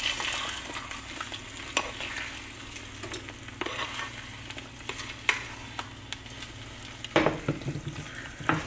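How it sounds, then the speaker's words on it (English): Egg and ham frying in a pan for a breakfast burrito, a steady close crackling sizzle with scattered sharp pops and a louder scrape of the spoon near the end as the egg is flipped. "Now I'm gonna go ahead and flip the egg with the spoon."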